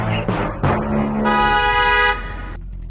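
A car horn sounds in Grand Theft Auto Online, a loud sustained honk near the middle of the short stretch, following a few short engine and game sounds.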